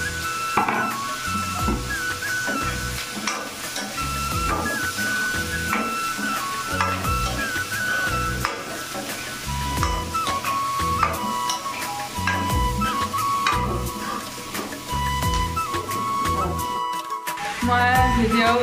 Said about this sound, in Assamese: এতিয়া প্ৰথমতে আলুখিনি অকণমান মানে ফাৰ্ষ্টতে ভাজি লওঁ